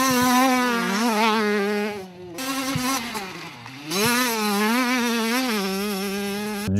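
A Derbi 50cc motorcycle engine revs high and buzzy close up, climbing and falling in pitch with a brief dip in the middle before winding back up.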